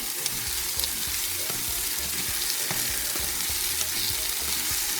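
Yam porridge with crayfish sizzling and frying in a pot while being stirred, a steady loud hiss broken by scraping and knocking sounds from the spoon, with no one talking.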